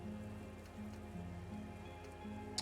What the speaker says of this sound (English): Raindrops fall on water, strangely quiet, forming circles in the distance.